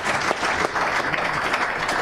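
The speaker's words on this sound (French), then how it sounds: "on peut vous applaudir" Audience applause after a talk at a French conference session on mechanics and energy management, a steady dense wash of many hands clapping throughout, fairly loud and continuous with no voices on top.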